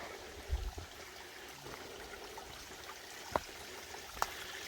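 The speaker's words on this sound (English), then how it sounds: "Even got a little waterfall here." Quiet trickle and splash of a small waterfall on a creek along the Appalachian Trail in Georgia, soft steady flow with a few sharp clicks and knocks.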